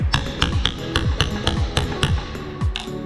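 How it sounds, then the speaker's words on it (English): A hammer taps a chisel while carving a wood joint: a steady run of sharp, close strikes, about three per second, ringing briefly against the wood. "Use the hammer, kind of tap, carve."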